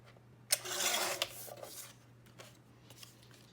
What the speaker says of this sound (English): And then I need to cut this strip to 4 3/4 tall.